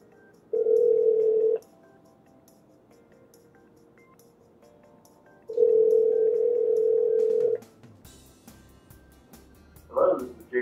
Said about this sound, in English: I'm just calling you to demonstrate how to make phone calls on the safety and convenience display.